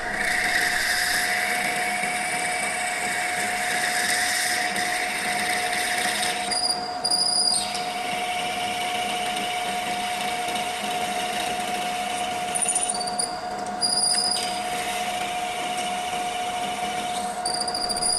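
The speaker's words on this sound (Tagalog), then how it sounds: "we'll use our counter boring tool to actually make the spot face" A counterboring tool cuts a spot face into metal on a drilling machine, making a steady, loud mechanical drone with a high whine that runs continuously and changes briefly a few times, with no talking.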